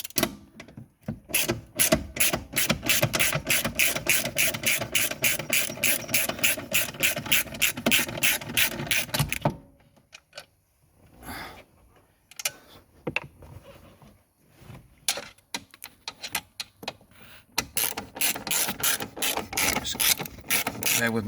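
A ratchet tool clicks rapidly and steadily while undoing the last screw on a Mini Cooper R53 dashboard, close and loud, then pauses with a few scattered knocks and rubs before the ratcheting resumes.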